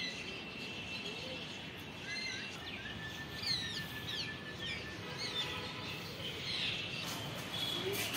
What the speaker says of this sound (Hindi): यहाँ पे मैना पक्षी है